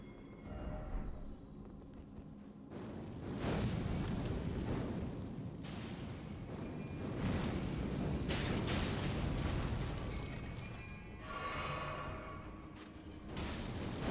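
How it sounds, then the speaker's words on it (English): Explosions in the video game Elden Ring, a series of loud, rumbling booms and bursts that swell and fade over several seconds, with a brief crackling blast near the end. "I just killed the guy on the outside of the door here with the explosion"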